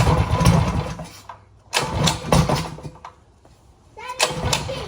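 A DIY go-kart engine is pulled repeatedly to start, cranking and sputtering in three or four close, loud attempts with short pauses between, never settling into a steady idle.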